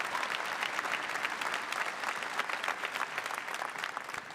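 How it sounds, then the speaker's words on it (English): Steady, vigorous applause from a graduation audience honouring new Master of Business Administration graduates, with dense overlapping claps that carry on throughout and ease slightly toward the end. "Again, round of applause"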